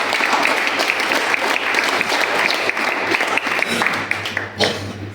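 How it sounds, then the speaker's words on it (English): An audience at a panel event applauds with steady, dense clapping that fades slightly toward the end. "Clap for her."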